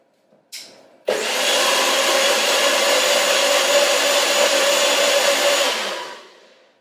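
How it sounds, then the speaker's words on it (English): A blender whizzes corn fritter mix in one burst, starting after a brief click, whirring loudly and evenly for about five seconds, then spinning down to quiet. "So I'm going to blend that up. Just whiz it up"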